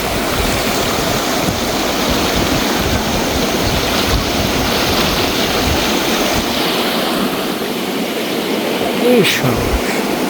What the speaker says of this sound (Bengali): এত স্রোত যাইতেছে, পানি ভয়ঙ্কর স্রোত, এত স্পিড